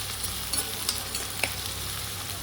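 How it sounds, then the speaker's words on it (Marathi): Onion and green chillies sizzle in a pan, a steady close frying hiss with a few soft stirring scrapes. "मिरची पण टाकून घेऊया म्हणजे दोन्ही पण मस्तपैकी भाजून घेऊया आपण एकदम व्यवस्थित त्याला भाजून घेऊया"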